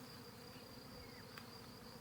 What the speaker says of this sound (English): you can probably hear them, but they swarm back again